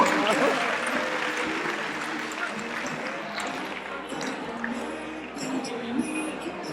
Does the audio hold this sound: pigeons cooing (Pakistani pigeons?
no